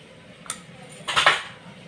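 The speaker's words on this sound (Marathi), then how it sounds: "आता हळद टाकूया चार चमचे" Spoonfuls of turmeric going onto chicken coated in garlic-ginger paste, heard as a sharp metal spoon tap on a vessel followed by a cluster of clinks and scrapes, close and fairly clear over quiet room tone.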